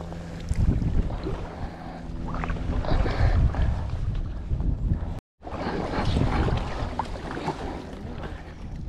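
Wind gusts roar across Coniston lake in the Lake District as a kayak moves over the water, a loud, steady buffeting rumble close to the microphone with a brief dropout partway through.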